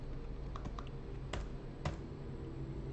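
Quiet, close computer keyboard typing with scattered single key clicks and a few sharper taps, set against a steady low hum.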